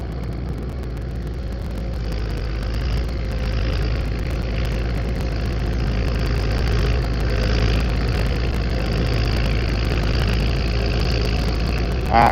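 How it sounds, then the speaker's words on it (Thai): A Hino P11C turbo diesel engine on a rotary tiller idles in a steady, low, rumbling drone with a slight rhythmic knock, constant and fairly loud throughout. "ตัวนี้นะครับเครื่องยนต์ฮีโน่นะครับ P11C นะครับ"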